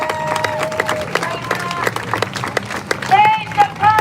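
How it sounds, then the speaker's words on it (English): A crowd at a protest rally claps in scattered, uneven bursts, with voices mixed in and a short shout or whistle-like tone near the end. "So please give them a round of applause."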